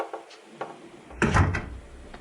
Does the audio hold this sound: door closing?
yes